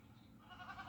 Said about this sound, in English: What's with all the goats?